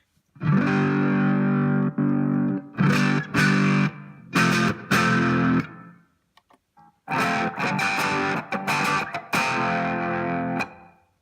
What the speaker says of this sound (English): That's a static wah effect.